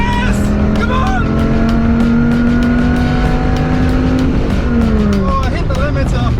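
A Dodge Viper GTS accelerates hard in a drag race on an unprepped runway, its loud engine tone climbing steadily, then flattening and dropping sharply as it hits the rev limiter, while excited voices shout close by.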